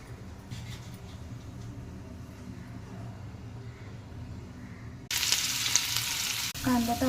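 Onion dropped into hot oil in a kadhai bursts into a loud, hissing sizzle after a quiet stretch of low background noise, then keeps frying steadily.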